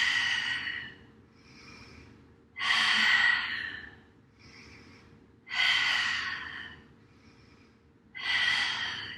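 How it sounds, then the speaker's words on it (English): Four loud, breathy exhales pushed from the back of the throat come through an open mouth, spaced evenly at a slow pace with quieter inhales between them, close and with no speech. "For a nice cooling breath, you can keep the mouth open on the exhales. Keeping with that audible pushing from the back of the throat."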